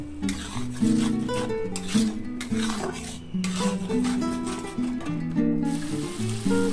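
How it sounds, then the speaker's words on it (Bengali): Masala with salt and chilli powder sautéing in a pan while dishes for a Bengali jackfruit and prawn curry are made, with steady frying noise under repeated clinks and scrapes of a spoon against the pan. "এই দিয়ে আমি মশলাটাকে কষিয়ে নেব।"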